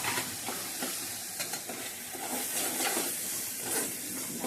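Coriander powder, chili powder and spices are stirred together in a hot pan for mutton, giving a steady sizzle with scraping spoon strokes, close and continuous without talk.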